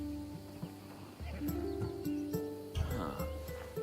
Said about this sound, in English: That horse is from Thessalonia,